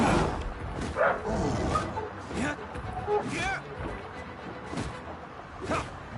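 Dog-like enemies in the video game Genshin Impact bark and yip repeatedly amid busy combat effects and swooshes, with a player talking over the loud, dense mix.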